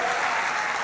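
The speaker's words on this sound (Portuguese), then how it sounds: "dê um aplauso ao Senhor." A church congregation claps together in a dense, loud burst of applause, filling the room evenly for a brief moment.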